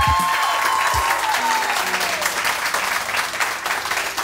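A studio audience applauds steadily and loudly on a Pakistani morning television show, the dense clapping holding for about four seconds as a brief tonal swoop passes early on.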